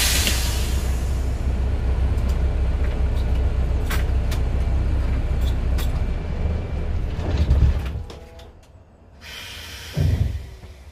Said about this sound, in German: dann stellen Sie bitte mal das Fahrzeug parkfertig ab